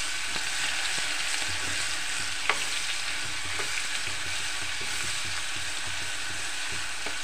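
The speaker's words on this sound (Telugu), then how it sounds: "ఇది కొంచెం నూనెలో ఫ్రై కావాలి." Garlic paste frying in a little oil for tomato pickle gives a continuous close sizzle, broken by occasional faint utensil clicks.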